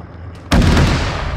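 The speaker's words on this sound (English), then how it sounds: "That gun is so loud." A single heavy gun fires in the ARMA 3 video game, a loud, close, booming report that hits suddenly and rings out with a long rumbling tail.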